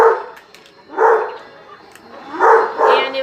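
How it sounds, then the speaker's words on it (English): A dog barks close by, four short loud woofs in two pairs separated by a pause, with nothing else audible around them. "Sorry, that's my dog."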